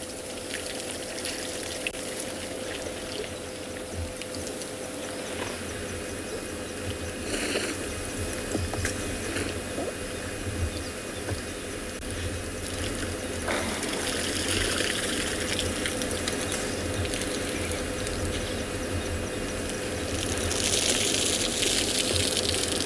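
Water flows steadily near elephants on an afternoon South African safari, a continuous wash of moderate loudness with some rustle, swelling slightly toward the end, with no voices.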